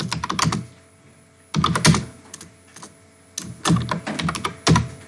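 HTML code is typed on a computer keyboard in three close, rapid bursts of clicking keystrokes separated by short quiet pauses.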